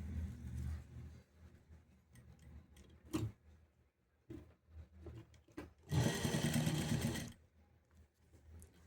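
A sewing machine runs lock stitching along blouse piping in short bursts, with quick mechanical ticks and clatter between runs and one longer, louder stretch of rapid stitching near the end.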